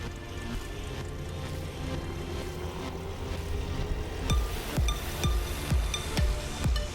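An electric scooter rides at its lowest speed level with a rising motor whine under steady wind rush, and rhythmic thumps from bumps in the road arrive in the last few seconds.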